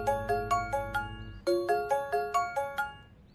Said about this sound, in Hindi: तुम्हारे ही फोन आ रहे हैं बार बार